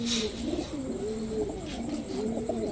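Kasuri Teddy pigeons cooing nearby, continuous rolling coos rising and falling over a steady hiss of background noise, with no voice.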